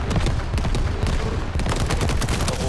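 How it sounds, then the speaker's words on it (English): Enemy artillery fire in a video game roars as a dense, continuous barrage of loud, rapid blasts and bursts, with no pauses across the stretch. "Enemy's artillery fire."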